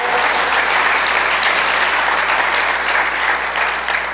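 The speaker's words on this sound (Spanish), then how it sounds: "Que alguien le pueda dar un aplauso a la palabra." Loud, dense applause from a church congregation after a sermon, a continuous wash of many hands clapping at once, steady and full for several seconds with no voices standing out.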